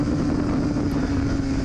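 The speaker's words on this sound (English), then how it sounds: "You see how I got some of my revs back? Now, they're starting to drop again." Racing motorcycle on the Daytona circuit during an ASRA 2024 race, engine droning steadily with strong wind rush, revs sagging slightly as the bike changes direction; loud and close, no talk.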